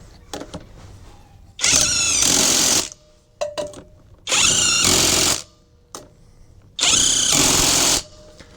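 An Alloyman 20V cordless impact wrench tightens lug nuts on a wheel in three loud, close bursts of rapid hammering, each about a second long, separated by quiet pauses with light handling clicks.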